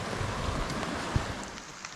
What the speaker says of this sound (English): It has poured the rain on us all day.